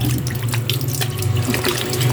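Lukewarm water runs steadily from a tap as a face is rinsed, a close, continuous splashing stream with small irregular spatters and no talk.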